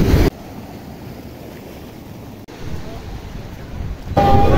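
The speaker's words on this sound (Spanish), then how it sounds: "Aquí tenemos el oleaje, es un poco más intenso. Vean allá esas olas que se forman." Ocean waves roll onto Playa las Gatas in Ixtapa Zihuatanejo, a steady broadband wash of surf with wind noise buffeting the microphone, louder gusts at the start and end.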